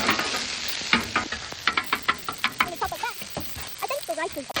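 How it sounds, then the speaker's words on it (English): Noodles fry and sizzle on a hibachi griddle while a metal spatula scrapes and taps in a steady series of sharp clacks, with a voice briefly audible in the background. "we're gonna go ahead and get our noodles going on this side"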